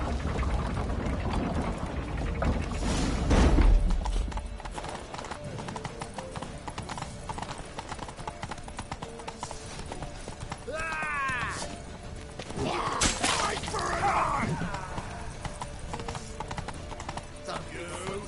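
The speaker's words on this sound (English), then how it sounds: "Grab a horse to the temple." Rapid hoofbeats of a galloping horse run throughout, with a neigh, whooshing effects and occasional shouted voices over game music.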